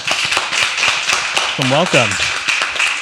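Audience applause welcoming the first founder at a startup pitch event, a dense patter of clapping throughout, with a brief spoken word over it.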